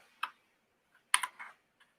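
A few quiet computer keyboard keystrokes come in two small bursts, a single click followed by a short cluster of taps, close by in an otherwise silent room.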